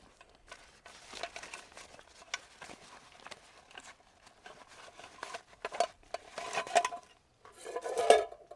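A budget backpacking cook kit handled at a camp in a state forest, with light metallic clinks and rattles of pots and utensils coming in scattered bursts, faint and close.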